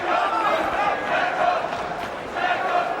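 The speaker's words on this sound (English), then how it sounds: "Again, the fans cheer on Proksa." At a Grzegorz Proksa vs Kerry Hope boxing rematch, an arena crowd of fans roars steadily in a loud, continuous wash of cheering and shouting throughout.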